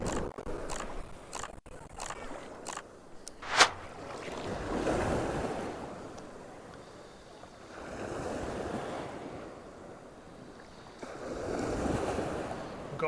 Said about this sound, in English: A few bigger rollers coming in, but nothing to worry about.